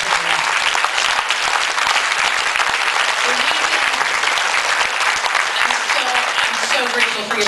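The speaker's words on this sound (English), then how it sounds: "I'm so grateful for your support and applause" An audience claps in sustained, dense applause that stays loud and even throughout, filling the room.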